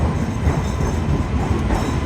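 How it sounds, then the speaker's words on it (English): A long passenger train departs for Braga from a station in Porto, its steady rumble of rolling wagons continuous, loud and close, with no voices over it. "So we keep filming the departure of the 6:50 train to Braga."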